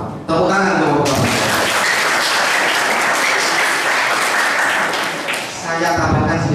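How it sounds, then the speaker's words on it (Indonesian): An audience at a police outreach event bursts into loud, sustained applause that follows and is followed by someone speaking through a microphone, and the clapping swells at once and holds steady before fading under his voice. "Tepuk tangan untuk Bapak."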